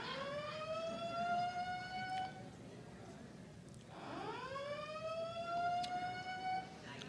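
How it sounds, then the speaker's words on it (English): A wailing siren rises and falls twice, sweeping up and fading, heard at a moderate distance with faint background noise. "This is the first time that the siren went off when I said that."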